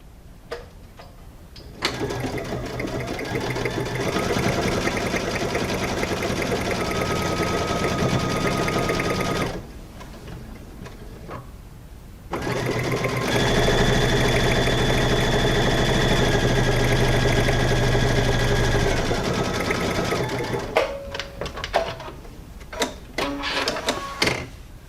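A sewing machine stitches a quilt-as-you-go block printed on batting along a quarter-inch seam, running in two long steady bursts separated by a short pause, close and loud, then stopping with a few clicks.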